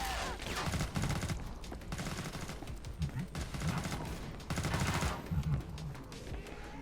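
Rapid bursts of gunfire from the video game Killing Floor 2, dense and continuous with sharp volleys throughout, with a voice occasionally heard over the shooting.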